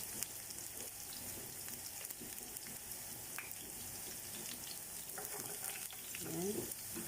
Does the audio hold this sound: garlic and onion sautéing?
yes